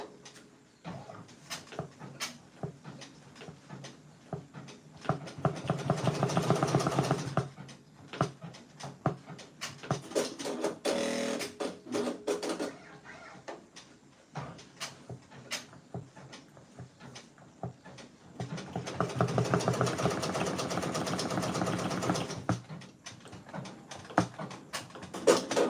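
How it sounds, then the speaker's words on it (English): An embroidery machine stitching out a bowl-of-cherries fan-art patch: rapid mechanical ticking and clicking in bursts, with denser whirring stretches in between and short pauses, heard close up. "We are right back into stitching."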